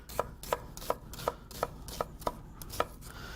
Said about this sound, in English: Just want to get a small chop on it.